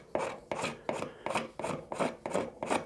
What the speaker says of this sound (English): So I'm just going to take a card scraper